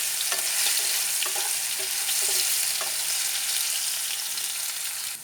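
Red lentil (masoor dal) bawra curry fries in oil in a pan while being stirred, a loud continuous hiss and crackle with repeated scraping strokes of the spoon throughout.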